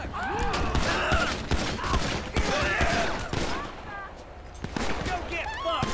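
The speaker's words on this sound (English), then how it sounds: "Oh, shit, this guy's opening fire." Rapid gunfire bursts in GTA V with LSPDFR, cracking repeatedly in quick volleys under an excited voice that talks and shouts between the shots.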